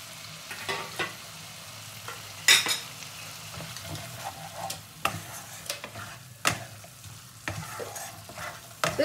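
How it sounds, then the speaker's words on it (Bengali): Capsicum being stirred and fried in a spicy masala paste for a capsicum rohu fish curry: a continuous sizzle broken by frequent scraping spatula strokes and clinks against the pan, close and clear, no talking. "এবার আমি দিয়ে দেবো ক্যাপসিকাম, যেটা মেন উপকরণ, ক্যাপসিকামটা দিয়ে দেবো"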